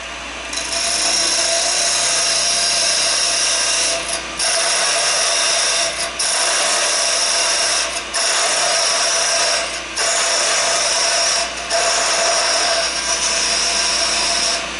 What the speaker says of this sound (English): I'll use my little parting tool to get started with.